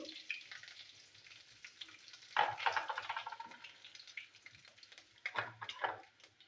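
Bay leaves tempering in hot oil in a home kitchen: a faint, soft sizzle that flares in two short crackling bursts, otherwise quiet.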